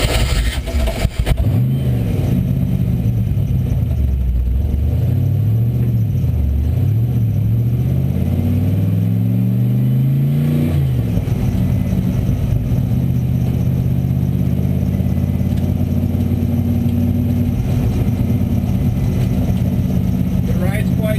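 An RCR SLC car is driven through a neighborhood in second gear. The engine rises and falls in pitch as it revs up and eases off, then settles into a steady drone.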